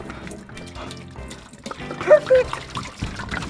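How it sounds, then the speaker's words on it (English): Water pours and trickles into a truck's tank with a few louder splashes midway, while a person speaks briefly nearby. "We're filling up the tank with water."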